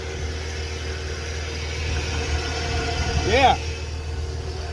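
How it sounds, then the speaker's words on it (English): A 1991 Ford F-150 engine idles after its whole cooling system, including radiator and hoses, was replaced. It gives a steady, moderate rumble nearby, and a brief voice cuts in near the end. "I'm gonna let it idle for a little bit."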